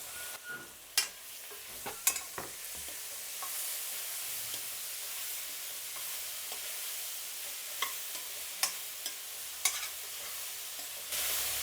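Vegetables and tomato with turmeric frying in a pan give a continuous soft sizzle, broken by a few sharp spoon taps and scrapes against the pan, close and alone without speech.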